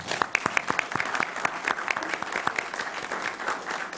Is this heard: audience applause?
yes